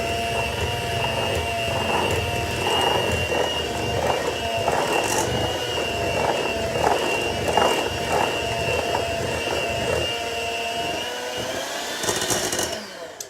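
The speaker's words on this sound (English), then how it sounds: "we're going to give this one last go around with the hand mixer" An electric hand mixer whirs steadily through a thick apple kuchen batter, a continuous motorized drone with a faint rattling texture that holds at close range for the whole stretch and cuts off near the end.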